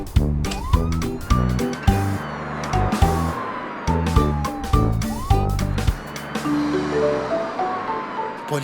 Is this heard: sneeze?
no